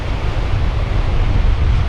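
Strong wind blows at Greens Beach in Tasmania near the River Tamar, a loud steady roar buffeting the microphone, with surf rushing underneath.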